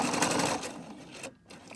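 A sewing machine stitching a 1 cm seam on a simple fabric shopping bag, heard as a close, steady mechanical whir that slows, stops briefly, then resumes.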